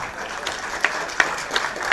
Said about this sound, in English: a round of applause from the fans in appreciation for that wonderful piece of defending